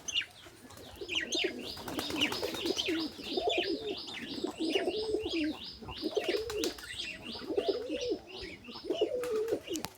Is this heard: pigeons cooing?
yes